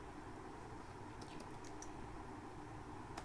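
Typing on a computer keyboard while writing a for loop, a few soft scattered key clicks over a faint steady hum, quiet and close with no talk.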